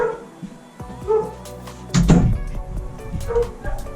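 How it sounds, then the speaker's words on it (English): Dogs bark and yip in short bursts, fairly close, with some whimpering between barks. "sorry, my dogs are barking"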